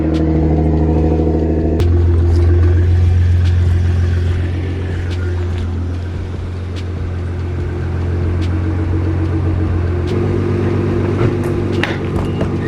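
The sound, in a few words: car driving past the camera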